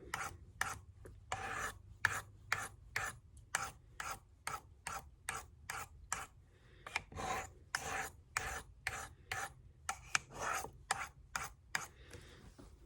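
A knife blade scrapes steadily back and forth across a whetstone in rhythmic rasping strokes, close and clear, with an even tempo that briefly slows before resuming.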